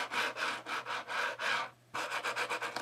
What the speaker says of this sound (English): you can hear the sound of the tech deck